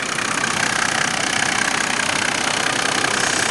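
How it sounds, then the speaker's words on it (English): A Mercedes-Benz OM606 turbodiesel engine idles steadily and smoothly, a close, even, continuous rumble with a faint rhythmic diesel clatter and no voices. "nice idle. Very quiet."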